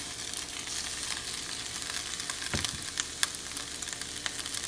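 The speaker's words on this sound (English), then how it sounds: "I'm going to put them into a preheated skillet. I just have some olive oil in here." Zucchini and red onions sautéing in olive oil in a preheated skillet on high heat, a steady close crackling sizzle with sharp pops and a brief stirring scrape.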